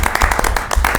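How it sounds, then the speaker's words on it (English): Applause with distinct hand claps from an audience at a school committee meeting, loud and close, filling the whole moment. "Can we applaud?"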